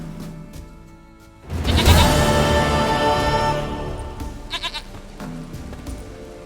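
A goat in the Witcher 3 game gives a loud, drawn-out bleat lasting a couple of seconds, followed by a few shorter, fainter bleats amid quiet game ambience.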